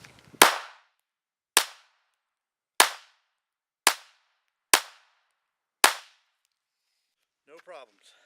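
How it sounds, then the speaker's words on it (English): Six sharp Glock 43 pistol shots ring out at a range, spaced about a second apart, each crack followed by a short decay, with brief rustling afterward. "Shoot the Glock"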